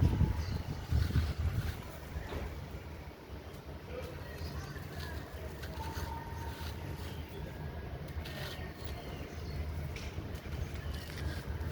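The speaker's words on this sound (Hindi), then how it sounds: "हवा भी बड़ी तेज़ चल रही है" Strong wind blows outdoors with steady rushing noise and gusty buffeting against the microphone, louder at first, and a person speaks over it.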